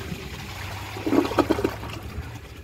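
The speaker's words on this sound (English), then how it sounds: "I am kind of disappointed that the flush cuts off so soon" A Glacier Bay ultra high efficiency toilet flushes briefly, a soft swirl of water swelling mid-clip over a low background hum, then fading quickly as the short flush cuts off.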